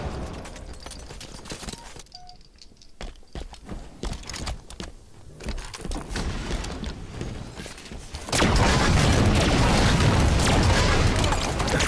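Rapid Halo 5 multiplayer combat sounds with thumps and booms, ending in a sustained loud burst of roaring noise from a cannon blast and its aftermath.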